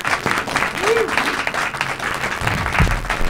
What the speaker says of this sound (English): Can we give Soumya Chakraverty another round of applause, please?